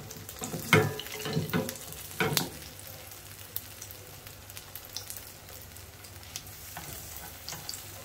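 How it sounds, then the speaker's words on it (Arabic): Minced meat kofta frying in a pan, soft crackling sizzle with a few louder bursts of spattering early on, then a quieter steady fry, no talking. "غادي نبدا نقلي هاد"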